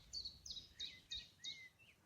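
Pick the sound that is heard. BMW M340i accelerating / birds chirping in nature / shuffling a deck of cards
birds chirping in nature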